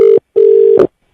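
Telephone tone after a caller hangs up, two loud steady beeps with a short gap between them, the second one longer, heard close and alone.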